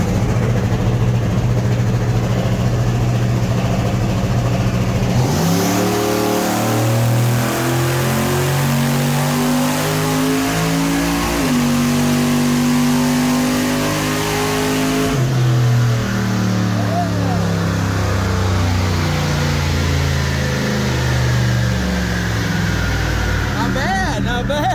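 A turbocharged Chevrolet Canyon with Holley EFI CO2 boost control holds on a two-step launch limiter, then its engine roars and climbs steadily through the revs, loud and close, with sustained droning throughout.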